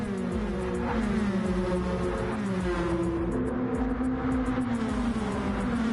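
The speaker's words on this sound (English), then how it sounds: "Now you get to hear the racing." Race cars lapping Watkins Glen in Gran Turismo 7, their engines a steady layered whine that rises and falls as the cars accelerate and shift, continuous and moderately loud for the whole stretch with no talking.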